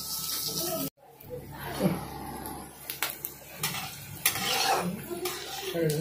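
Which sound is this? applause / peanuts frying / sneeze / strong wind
peanuts frying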